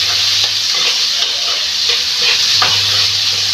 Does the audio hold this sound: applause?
no